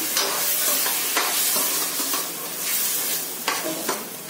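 Water from the mixer jar goes into a pan of sizzling egg curry masala over high heat, producing loud continuous hissing and bubbling with stirring scrapes throughout; no speech.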